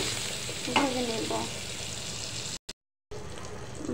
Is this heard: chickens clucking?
no